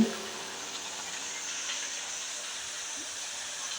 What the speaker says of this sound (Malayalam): തിളച്ച എണ്ണയിൽ അതിൽ നമ്മളെ പത്തിരി പൊരിഞ്ഞ് വരുന്നുണ്ട്